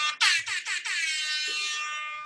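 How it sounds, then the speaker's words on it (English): An air horn blares in a few quick stuttering blasts, then holds one long sustained tone, loud and close with no talking. "I've got a cool little air horn now that I can play whenever something exciting happens"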